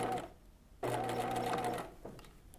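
Sewing machine running steadily as it top stitches fabric an eighth of an inch from a fold, a close, even mechanical whir with a brief pause before it starts again.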